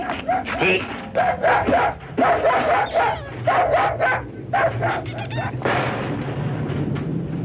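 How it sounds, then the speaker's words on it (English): A dog in an old feature film barks and yips repeatedly in choppy bursts, with whimpering, howl-like cries between them, fairly close and loud, against a low background hum. "tell him to take that howling mutt with him"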